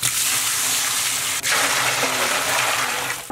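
Water gushes steadily from a vessel into a pot of spiced mutton with ground turmeric, chili and biryani masala paste, a continuous close splashing pour with a brief dip midway, no voices.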